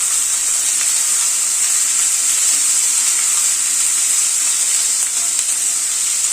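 Chopped onions fry on medium gas flame in a pan for an onion-ginger-garlic curry base, a steady, loud, close hiss that sizzles evenly throughout with no pauses and nobody speaking.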